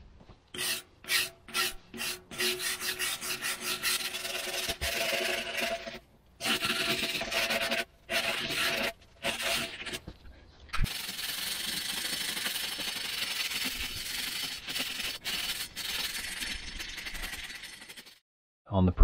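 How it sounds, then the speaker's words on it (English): Wire brush scrubbing the threads of a bolt on an old 12-ton grader, heard as close, rapid bursts of harsh rasping strokes broken by short pauses, with no talking. "Give it a good wire brush, clean all these threads out, and then I'll just grease it."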